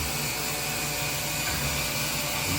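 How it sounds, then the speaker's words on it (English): An air conditioner runs inside a trailer, giving a steady, even whooshing hum with a low rumble that stays constant and fills the whole stretch, with no voices. "Sorry you have to deal with my air conditioning"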